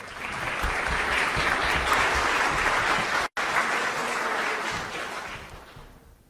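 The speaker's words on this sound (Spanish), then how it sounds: "Aplausos, por favor." An audience at an electoral tribunal event in Mexico applauds, a thick, sustained wash of many hands clapping that builds, holds steady, then fades away at the end.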